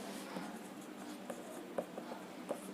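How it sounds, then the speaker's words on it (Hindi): Faint scratching and a few soft taps of notes being written on a board during a Class 10 physics lesson on the refraction of light. The sound is quiet and close, under a steady hiss of room noise. "नोट में यहाँ पर हम लिख देते हैं"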